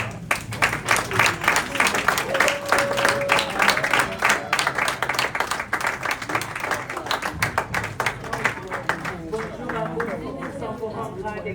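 A crowd claps at a civil and religious wedding ceremony, dense and lively at first, then thinning into scattered claps, with voices chattering underneath.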